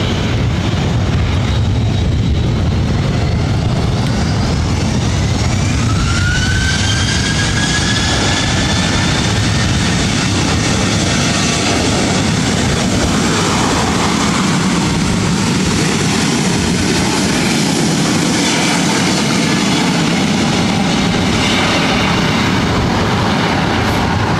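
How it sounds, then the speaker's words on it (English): A Southwest Boeing 737-700 jet roars through its takeoff roll at LAX, a loud, sustained broadband engine rumble with a rising whine that swells and holds steady throughout. "about to take off to Sacramento on a 737-700"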